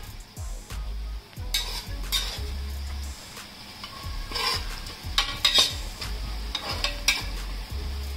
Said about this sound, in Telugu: ఆనియన్స్ ఫ్రై అయిపోయాయి